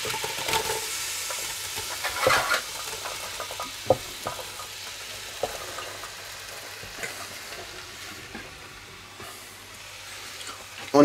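Vegetables go into a pot of broth for a lumberjack stew, with scraping stirs, hissing sizzle and clanks of a spoon against the pot, fairly close and steady over a low background hum.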